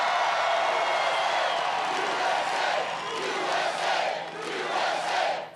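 A large crowd at a Donald Trump rally roars and cheers in a dense, sustained wall of voices and shouts that swells and dips slightly without pause.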